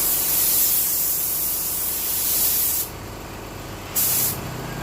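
A spray gun with a 1.2 nozzle and heavy fluid flow lays down a first layer of clear coat. It gives a loud, steady air hiss that cuts out briefly twice, then resumes.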